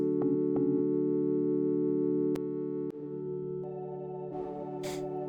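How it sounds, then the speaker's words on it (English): Sustained organ preset pad from an Arturia MicroFreak synth run through effects, holding steady chords alone with a few soft clicks and a late airy swell of noise. "This was an organ preset that I just ran through a bunch of effects."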